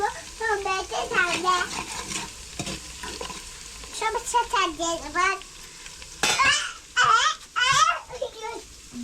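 Ginger-garlic paste sizzles with onions in a pan for mutton biryani, a bubbling frying hiss mostly buried under frequent voices talking over it, with occasional stirring sounds.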